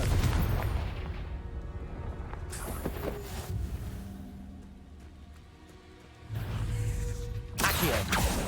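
The Confringo blasting spell in Hogwarts Legacy, loud booming explosions at the start and again near the end, with crackling impacts and rumbling between them.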